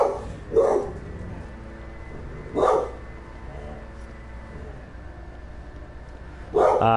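A dog barks three separate times, each a short sharp burst, with a long pause between the first pair and the last, heard over a steady low background hum.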